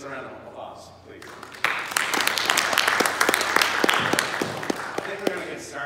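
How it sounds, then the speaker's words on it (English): After a quiet moment with faint talk, an audience bursts into lively applause at a gathered talk event, with close, loud individual claps standing out over the dense crowd clapping until the end. "Rusty, get some random applause, please"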